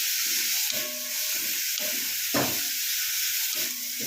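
Broccoli frying under a lid in a covered pan gives a steady close hiss and sizzle, with a few soft clanks and pulses rising and falling through it.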